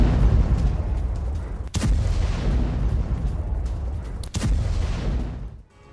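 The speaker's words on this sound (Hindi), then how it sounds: "गोला बारूद के डिपो में आग लगने से ये जोरदार धमाका हुआ है।" Explosions at an ammunition depot fire in Transbaikalia, Russia: a continuous rumbling roar of blasts, with two sharp loud booms standing out, dense and distant-sounding, fading at the end.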